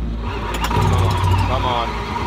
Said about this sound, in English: I'm really hoping that we can get this car running again.